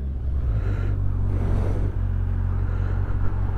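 Kawasaki Ninja 1000 SX sports tourer motorcycle riding along, a steady deep engine rumble and road noise holding constant throughout without talk.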